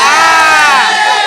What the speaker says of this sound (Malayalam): ഒരു കൈയടിച്ചേ.